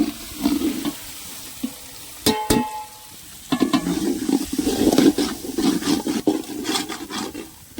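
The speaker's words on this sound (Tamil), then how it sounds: "வத்தப்பொடி மல்லிப்பொடி கரம் மசாலா இது மூணுத்தையும் உள்ளே போட்டு கிண்ட ஆரம்பிச்சிருவோம்" Chili powder, coriander powder and garam masala being stirred into frying tomato masala for chicken biryani, with a loud sizzle, spoon scrapes and clinks against the pot, and a few clanks partway through.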